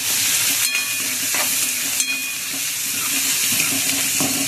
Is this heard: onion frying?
yes